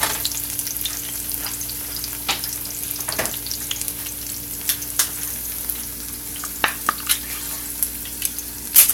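Green plantains are turned over in hot frying oil, giving a steady sizzle and frying crackle. Sharp pops and spatters sound throughout, close and fairly loud, with no talking.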